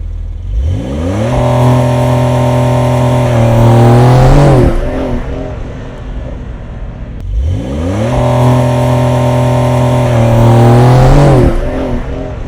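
A Porsche 911 does a launch control start with PSM on. The engine is held at high revs, then surges with rising pitch as the car pulls away. The sequence is heard twice, loud and close.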